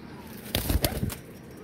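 Pigeons in a coop, heard as a brief burst of wing flapping and fluttering with a possible soft coo, close by, lasting under a second amid quiet.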